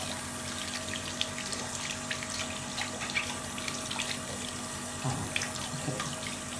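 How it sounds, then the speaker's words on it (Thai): Tap water runs steadily into a sink while eyeglasses are rinsed, a continuous soft stream with occasional splashes as the glasses pass under the flow. "ให้เราเปิดน้ำล้าง ล้างแว่นของเราตามปกติค่ะ"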